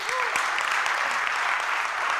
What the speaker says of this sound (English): can we have a big round of applause for all the cricket fans?